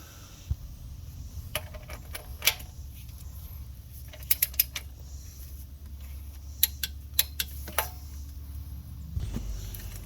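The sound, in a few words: torquing bolts on a Dodge Hemi engine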